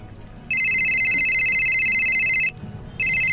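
A phone's ringtone sounds in a Malayalam short film, a loud, steady two-tone electronic ring held for about two seconds, a brief pause, then starting again, with faint room noise underneath.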